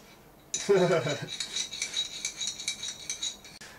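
Metal spoon clinking and scraping against a coffee cup, a rapid series of light chinks after a brief burst of handling noise, fairly close.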